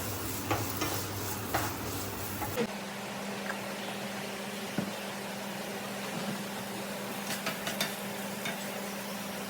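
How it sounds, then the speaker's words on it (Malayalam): Ingredients for chicken biryani are stirred and sautéed in a pan, giving a soft sizzle with intermittent spatula scrapes and clicks, close and fairly quiet. "ഒന്ന് വഴറ്റി കൊടുക്കാം."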